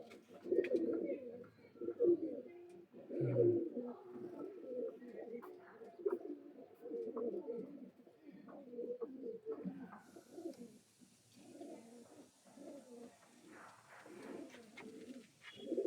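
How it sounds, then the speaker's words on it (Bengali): A pair of Kalanka pigeons with their young coo in low, repeated rolling calls, close and steady, with a faint hiss behind them in the later part. "বন্ধুরা দেখুন, এক জোড়া কালাঙ্কা পায়রা, সেট জোড়া বাচ্চা"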